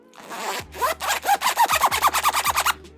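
A big zipper with an oversized pull on a Topo Designs Rover Pack backpack is drawn in about a dozen quick, rhythmic rasping strokes, close and clear with nothing else heard.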